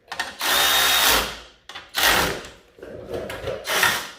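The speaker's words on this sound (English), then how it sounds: "There's my ratcheting wrench." A ratcheting wrench tightens screws on a snowblower carburetor in four loud, close bursts of rapid clicking ratchet strokes with short gaps between, no talking.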